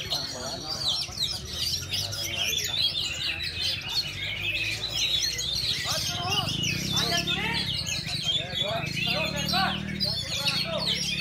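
Kacer magpie-robin songbirds singing at a bird contest in Pangandaran, Cijulang, with dense overlapping chirps and warbles throughout and someone talking over the birds.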